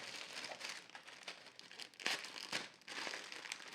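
A heavily re-taped parcel from AliExpress is torn and crinkled open up close, with loud bursts of rustling tape and packaging and sharp rips near the middle.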